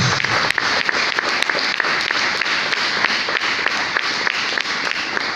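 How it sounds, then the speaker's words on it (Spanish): Church congregation applauding during a Spanish-language sermon and worship service, dense steady clapping from many hands filling the room, loud and continuous throughout without pause. "Aplauda a Jesús."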